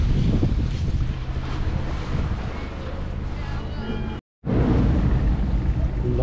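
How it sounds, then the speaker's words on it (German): A ferry on the Kiel fjord rumbles through a docking maneuver, its low engine noise buried under constant heavy wind buffeting, with a brief total dropout partway through. "Hier läuft inzwischen wieder das Anlegemanöver."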